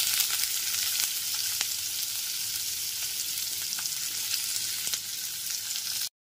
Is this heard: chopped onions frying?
yes